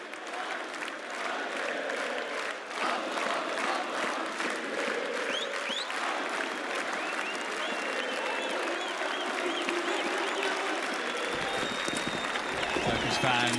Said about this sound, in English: It's a football-esque Turkish crowd here.